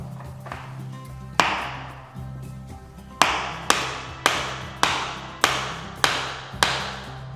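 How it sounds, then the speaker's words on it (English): A hammer drives nails into vinyl-floor base shoe through a small punch: about eight sharp, close taps in a steady rhythm, each one ringing briefly, after a couple of scattered hits at the start. "to avoid any kind of damage to the base shoes, after this I'm using a small punch."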